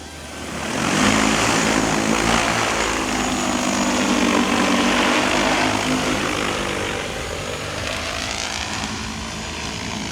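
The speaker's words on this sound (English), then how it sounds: "as the drone's flying" P150 Max agricultural drone in flight carrying a heavy load of about 20 gallons, its propellers giving a loud, steady, close roaring whir that holds for the whole stretch.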